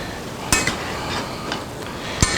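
Beef soup stirred in a pot, a few sharp utensil clinks against the rim over a soft, steady simmering hiss.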